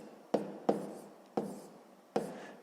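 Handwriting of a sixth-grade math solution produces four distinct, quiet strokes, each a brief scratchy burst that fades, separated by short pauses on an otherwise hushed background.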